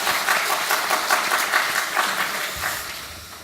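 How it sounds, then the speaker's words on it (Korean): Members of a church congregation clap for one another during a Sunday worship service, a steady, lively round of many hands that gradually fades out near the end. "박수 한번 하겠습니다. 서로를 향해서."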